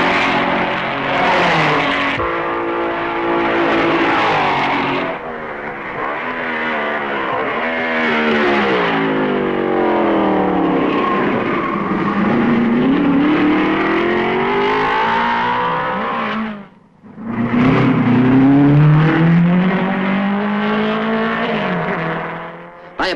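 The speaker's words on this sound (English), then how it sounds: "Kling passes Musso at Malmedy" 1955 racing cars, including Maseratis, roaring past at the Belgian Grand Prix, a loud continuous engine howl with shifting pitch, a brief drop to near quiet, then another car surging in close.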